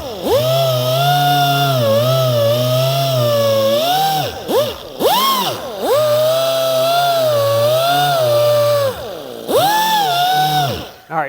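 A machine sander works 2000 grit paper over scratches in car paint, a steady high motor whine with strong tonal harmonics that dips briefly twice as it is lifted or moved, close and loud.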